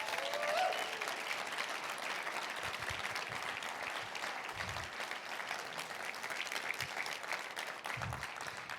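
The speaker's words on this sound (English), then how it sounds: "can we give a round of applause for the Marbleseed Board of Directors?" An audience at the closing session of an organic farming conference gives a round of applause for the Marbleseed Board of Directors, with sustained, moderately distant clapping from many hands and a few low thumps beneath.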